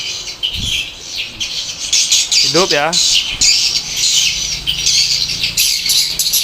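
A swiftlet-attracting machine plays its 'pull' lure call, a steady run of high, raspy chirping squawks that carries on throughout, with someone speaking briefly partway through.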